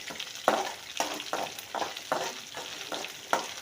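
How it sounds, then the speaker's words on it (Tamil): Ginger, garlic and onion sautéing in a pan for onion chutney, with a steady sizzle broken by regular scraping stirs about every half second, close and moderately loud. "இஞ்சி பூண்டு வெங்காயம் கொஞ்சம் லைட்டாக வதங்கும்"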